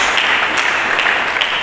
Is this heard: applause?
yes